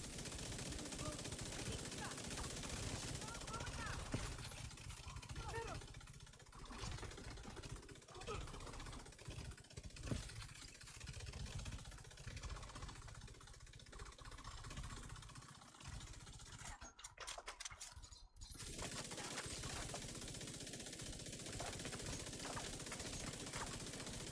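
Video game gunfire from The Division 2 rattles in bursts under continuous talk, with dense automatic fire and an engine-like hum across the clip.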